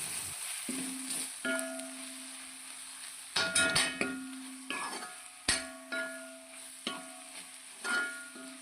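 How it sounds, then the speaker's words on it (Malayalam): Chicken masala being stirred and sautéed in a pan, a steady low sizzle broken by repeated metallic scrapes and clinks of the spoon against the pan, close and fairly quiet. "ഇനി നന്നായിട്ടിത് ഇളക്കി വാടി കിട്ടണം, മൂത്ത് കിട്ടണം"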